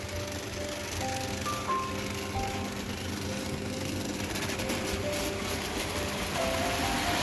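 A Lima Class 33 model diesel locomotive creeps along at slow speed, giving a steady low motor whir and faint track rumble with small tonal whines drifting in and out, continuous and close.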